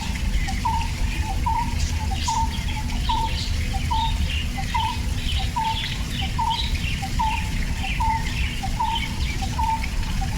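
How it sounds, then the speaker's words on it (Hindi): Birds chirp outdoors in a steady run of short, evenly spaced calls repeating through the whole stretch over a constant rushing background like flowing water. "पक्षियों की आवाज़ अपने आप ध्यान जाएगा।"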